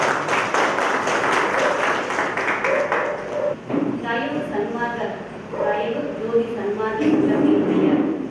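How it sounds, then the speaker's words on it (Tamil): Audience applause welcoming a speaker at a spiritual gathering of the Dhayajothi Sanmarga Sabha, dense clapping at the start that fades as voices and talk take over. "அவங்களுக்காக நம்ம தயவுஜோதி சன்மார்க்க சபை சார்பாக ஒரு கைத்தட்டலையும் வரவேற்பையும் தருமாறு மிகவும் ஆர்வம்"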